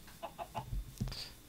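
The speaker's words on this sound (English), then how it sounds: "Just chickens." Chickens clucking in the Minecraft video game, a short run of quick, faint clucks in a row, followed by a couple of thuds, with no talking.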